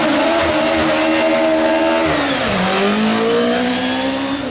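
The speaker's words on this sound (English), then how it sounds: "Now he's driving a Chevron" A Chevron race car accelerating hard at the Brighton Speed Trials, its engine screaming loudly and climbing in pitch, dipping briefly at a gear change before rising again, close and continuous.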